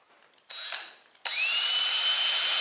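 A power drill runs in two bursts, a short whir that winds down and then a steady high-pitched spin, close and fairly quiet.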